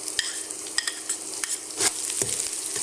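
Green chillies and onions sauté in a pan with a continuous crackling sizzle, punctuated by spatula scrapes and taps at irregular intervals.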